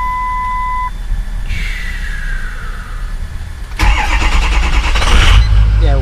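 A Ford Powerstroke 6.0 diesel engine cranks and fires up, then settles into a loud, rough idle nearby, its rumble growing heavier after catching, with a voice talking over it.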